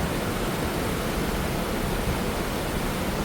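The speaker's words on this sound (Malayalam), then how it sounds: "ഇത്രയും വെള്ളമൊക്കെ മലനിരകളിൽ നിന്ന് ഒഴുകിയല്ലേ വരുന്നത്" Water rushing down from the mountains at Attappadi makes a constant broadband roar, steady and close like a waterfall or strong stream, with no voices over it.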